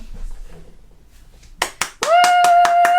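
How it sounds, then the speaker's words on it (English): Two sharp hand claps, then a loud steady tone with more rhythmic claps layered over it, close and energetic after a quiet start. "I feel like you need to do the clapping part."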